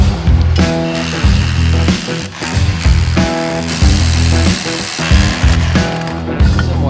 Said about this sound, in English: drilling a hole in the rock the same size as the bolt that will hold down the base